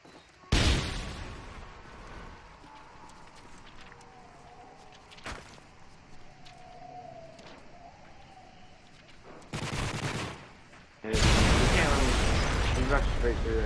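A grenade goes off and gunfire bursts out in a hardcore 3v3 team ladder video game match, with scattered loud blasts over low background ambience and a sustained heavy barrage at the end.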